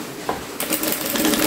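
A sewing machine stitches patchwork fabric squares with a short stitch length, a quick close mechanical whirr of rapid needle strokes starting after a brief pause and running on to the end.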